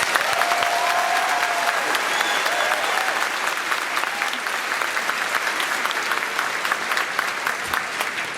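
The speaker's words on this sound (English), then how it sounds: "If we could give them one more round of applause." Audience applause at the Freeport High School graduation ceremony in Maine, 2024, following a chorus performance: dense, steady clapping from a large crowd that holds loud and even for the whole stretch.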